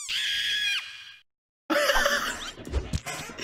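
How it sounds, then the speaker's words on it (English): An animated character in a Frozen film lets out a loud, high, wavering scream, cut off by a short silence, followed by more shrieking and squealing mixed with laughter. "Yo, why you scream like that?"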